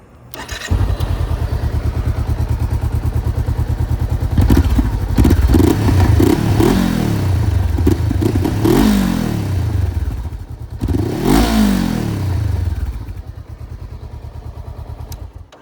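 A Honda CBR500R motorcycle engine cranks and fires, then runs loud and close with several sharp revs rising and falling before settling to a rough idle.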